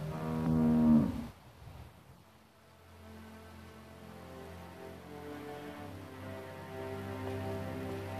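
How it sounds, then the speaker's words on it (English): A cow in The Walking Dead game lets out one loud, close moo at the start, then a low drawn-out second moo follows over quiet ambience. "How do you like that cow, Clem?"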